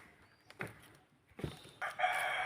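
A chicken at a nature park in the Nilgiri Biosphere gives short crowing and clucking calls, fairly close, in bursts with quiet gaps between.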